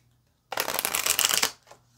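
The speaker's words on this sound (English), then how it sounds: "let's get one more good shuffle." A deck of tarot cards is shuffled in one quick riffle lasting about a second, close and crisp, with near silence before and after.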